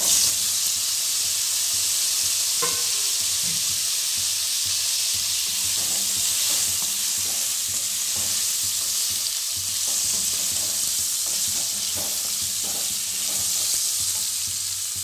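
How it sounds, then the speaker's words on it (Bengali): Potatoes dropped into hot oil with crackled cumin tempering for a Bengali jackfruit curry, giving a loud steady sizzle and hiss with intermittent scraping and stirring clinks from a utensil. "জিরেটা ফোড়নটা ফেটে গেছে, আমি এবার আলুগুলো দিয়ে দিলাম এতে।"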